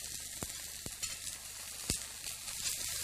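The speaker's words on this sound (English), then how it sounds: "you have it nice and hot in the frying pan, and then you add the fish cakes, and you just give them 1 minute's cooking on each side" Fish cakes fry in hot peanut oil in a frying pan, giving a steady bright sizzle punctuated by a few sharp pops and crackles close by.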